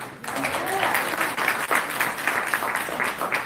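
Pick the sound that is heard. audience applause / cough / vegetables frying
audience applause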